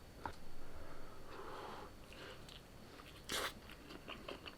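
Close, soft crunching and chewing of smoky-flavored food, with a sharper bite in the middle and quiet mouth noises around it, no talking.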